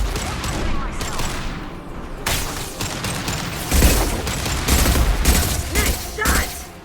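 Sustained bursts of gunfire from the video game Mass Effect 2, rapid repeated shots with heavier booming impacts later on, loud and busy throughout, with voices talking faintly underneath.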